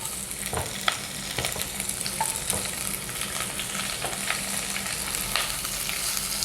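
Steady sizzling of leeks frying in olive oil, with occasional clinks and scrapes of stirring in a pan.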